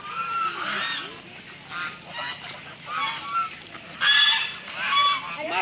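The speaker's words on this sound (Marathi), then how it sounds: "इथे आपण बघू शकतो डक आहेत. डक, बदकं." Several ducks honk and quack in repeated bursts, loud and close, at an agro-tourism resort in Neral, with a busy outdoor background between calls.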